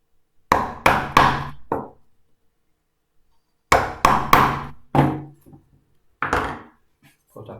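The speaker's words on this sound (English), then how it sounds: "just tap it down with our mallet a couple of millimeters" A mallet taps a wooden piece down a couple of millimeters while building a small storage box: sharp, close knocks in quick groups of about four, a pause, another group of four or five, then a final few blows.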